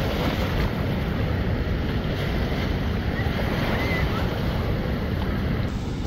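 Jaykwadi dam reservoir waves at Paithan's earthen dam, a constant rushing wash of water under strong wind noise on the microphone, steady and unbroken.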